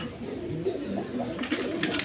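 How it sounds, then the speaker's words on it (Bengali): Caged red Jacobin and Maltese pigeons cooing softly, low murmuring calls close by with a few light flutters of movement near the end, no talk. "একদম ছটফট কবুতর"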